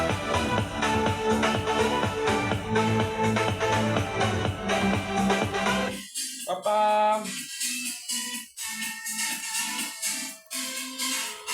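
A horn tweeter in a speaker system under test plays music loudly, first full-range, then thinning abruptly to bright, treble-heavy bursts with the low end largely gone.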